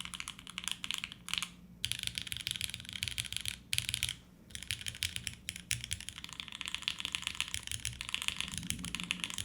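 Fast, steady typing on the alpha keys of a mechanical keyboard, a close, dense stream of crisp clacks with brief pauses and no talking.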